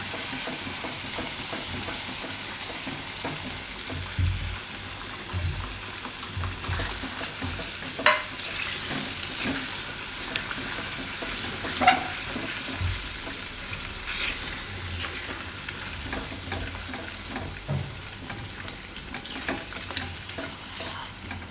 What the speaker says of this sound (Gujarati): તો હવે આમાં આપણે નાખી દઉં આ દહીં અને મિક્સ કરી લઈશું બરાબર